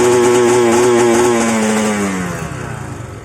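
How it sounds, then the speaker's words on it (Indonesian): A worn-piston Kawasaki Ninja 150RR two-stroke engine revs loud and close, holding a raspy buzzing pitch that fails to climb higher, then sags and drops away toward idle, with no talk. "ketika motor ini digas dia tidak mau tinggi"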